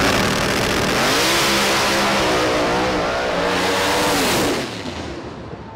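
A ProCharger-boosted drag racing car launches hard at a MotorEx 2022 race, its engine roaring loudly and rising in pitch as it accelerates, then fading slightly at the end.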